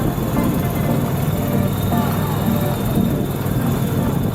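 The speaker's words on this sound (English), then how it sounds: "The heli's just landed." A helicopter just landed in Cape Town, its engine and rotors a loud, steady close roar with a rough, churning texture filling the whole moment.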